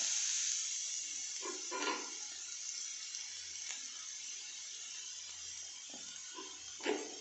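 Shredded cabbage gently sautéing in homemade ghee, a constant soft high hiss with a few faint stirring clinks and scrapes, quiet and steady.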